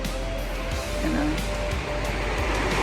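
Sea waves wash onto a black sand beach in a steady, broad rush of surf, with faint wind noise running underneath throughout.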